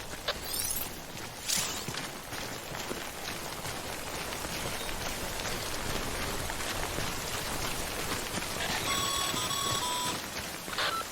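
Timefall rain in the video game Death Stranding pours as a steady, dense hiss throughout, with a few faint electronic beeps near the end and no speech.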